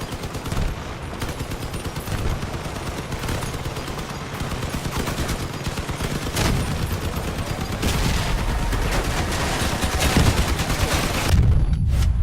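Continuous machine gun and cannon fire from vehicle combat in the Crossout video game, dense rapid bursts overlapping with heavy booms, loud and sustained throughout.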